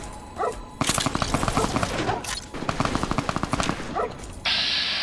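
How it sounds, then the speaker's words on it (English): Rapid bursts of automatic gunfire in the video game Fallout 3 rattle in two long volleys, loud and close, with brief pauses between them. "we have gunfire"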